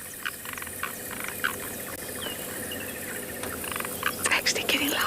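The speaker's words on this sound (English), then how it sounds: "Croaking, croaking." Frogs croak in a wild South African setting during a morning safari, a soft repeated pulsing chorus at moderate distance under steady background hiss, with quiet human voices and brighter calls rising near the end.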